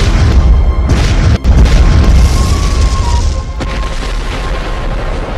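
A deep, rumbling boom fills the clip, sustained and loud, with a brief dip before the low roar continues and slowly fades.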